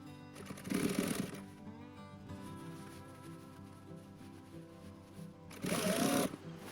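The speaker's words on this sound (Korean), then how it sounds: "여기를 그냥 잘 박음질 해주면 됩니다." Sewing machine stitching the skirt onto the jacket of a hanbok dress, two short bursts of fast motor-driven stitching about a second long, near and clear, with a quiet pause between them.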